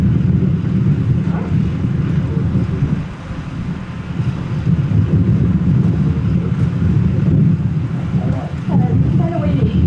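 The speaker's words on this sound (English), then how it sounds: "Kind of windy." Strong wind buffets a microphone outdoors at a county proclamation ceremony, a loud continuous low rumble lasting throughout with a brief dip midway and faint voices beneath.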